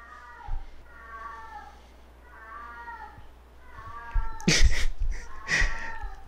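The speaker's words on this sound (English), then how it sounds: "that's my neighbor's cat or somebody's cat" A neighbor's cat meows several times in drawn-out calls, faint and a little distant, followed by a louder burst of broadband noise near the end.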